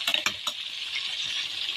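Salted, marinated milkfish (daing na bangus) crisping in hot oil, giving a steady close sizzle with a few sharp clicks at the start.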